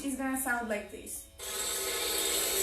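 A person speaks briefly, then a dilruba note bowed with too much pressure turns harsh and scratchy, a loud grinding rasp that continues to the end.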